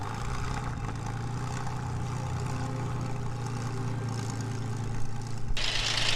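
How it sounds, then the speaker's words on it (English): A Spitfire's Merlin engine runs at Duxford as a steady, low droning roar that holds constant, heard from a distance with no talk over it. "It's still the top of the range of the old Spitfire. Merlin engine."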